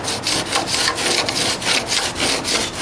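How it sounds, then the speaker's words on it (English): A window frame edge is ground smooth with a power tool, a harsh rasping sound in quick rhythmic passes, close and loud, with no talking. "grind that off a little. Get myself a smooth edge."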